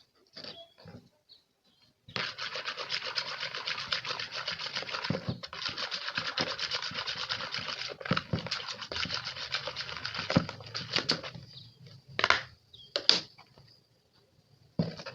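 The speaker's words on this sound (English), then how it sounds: "I stir the mixture." A homemade disinfectant mixture with phenol is stirred in a container, making a busy run of scraping and clattering strokes for several seconds, then a few scattered knocks and scrapes before it falls quiet.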